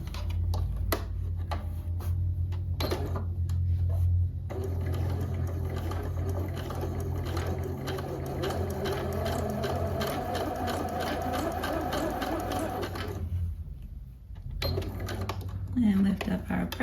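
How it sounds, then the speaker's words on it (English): A sewing machine runs test stitches on a dress facing, giving a close, rapid rhythmic clatter that runs steadily for most of the time, with a pause and a few short bursts near the end while a person talks over it. "we're gonna do a few test stitches"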